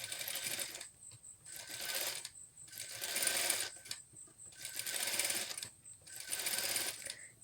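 A sewing machine topstitches a Shanghai collar in five short, evenly spaced runs separated by brief pauses, quiet and close.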